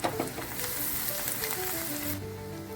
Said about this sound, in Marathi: कट केलेली हिरवी मिरची, त्यापाठोपाठ बारीक कट केलेले आले टाकून छान परतून घ्यायचं आहे